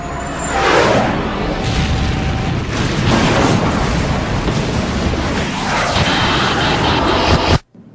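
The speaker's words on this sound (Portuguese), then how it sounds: "E de repente, houve um baque, um impacto enorme." Dramatized impact of two Boeing 747 jumbo jets colliding on the runway at Tenerife in 1977, a loud sustained roar of crashing and rumbling that fills the whole stretch before cutting off sharply.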